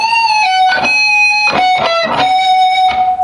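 Electric guitar lick with string bends rising and releasing, mildly overdriven single notes picked in a quick, clear phrase, played alone and fairly loud.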